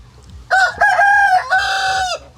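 A backyard meat chicken, among pullets about ten weeks old, lets out a loud, clear crowing call lasting nearly two seconds with a brief break partway through. It is heard alone, with no talking.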